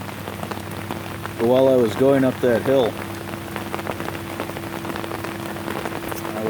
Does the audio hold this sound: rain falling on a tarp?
yes